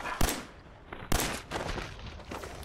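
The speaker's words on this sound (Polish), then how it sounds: "Spróbuję mu wpakować serię czterech strzałów." Several sharp gunshots from the video game Fallout 4 ring out in quick succession with a synthetic game-like quality, each followed by a short echoing tail.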